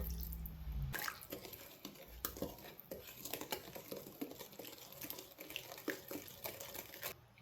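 A cup of water is poured into rock bun batter of melted butter, vanilla extract and rose water, heard as soft close splashing and dripping with a few small clinks of the bowl.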